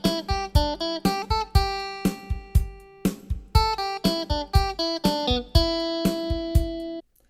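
Guitar picking a four-note sequence through the pentatonic scale, crisp evenly spaced plucked notes in repeating groups, close and clear, ending on a sustained note before stopping.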